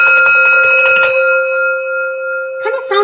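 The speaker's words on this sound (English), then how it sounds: "It's actually a Tibetan bowl." A Tibetan singing bowl is struck and rings loud and close with a sustained, steady metallic tone that slowly fades, ending in a brief scrape or knock.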